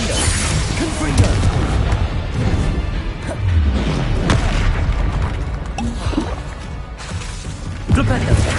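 Confringo spell blasts in Hogwarts Legacy combat: loud, repeated booms and bursts mixed with whooshes, piling up continuously with barely a pause. Voices call out over the din.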